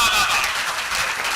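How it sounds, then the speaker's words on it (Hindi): An audience at a Hindi poetry recital claps in a dense, steady burst of applause that fills the short moment. "जरा ढंग से एक बार बजाएं ताली।"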